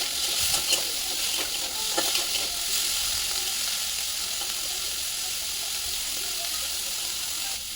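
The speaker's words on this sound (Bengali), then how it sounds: "কাঁকড়ার মধ্যে দিয়ে দিলাম হলুদ গুঁড়ো, ঝাল লঙ্কার গুঁড়ো আর লবণ দিয়ে একটু ভেজে নেব লাল লাল করে।" Crabs coated with turmeric, chili powder and salt fry in a hot pan, giving a close, steady hiss of sizzling oil with a few louder spits and stirring sounds early on, no talking.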